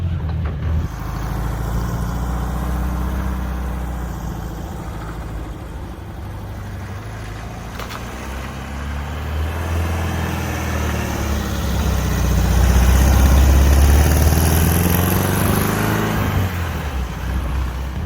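A 1975 VW Beetle Cabriolet, little driven for a few years, idles close by with a steady, low air-cooled engine rumble that swells slightly in the second half, running on its own without talk.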